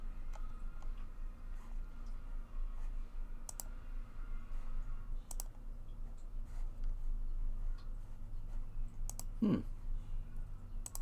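Faint, sparse mouse and keyboard clicks during a Monster Hunter session, scattered single taps and short bursts over a low background hum, with one louder thud near the end.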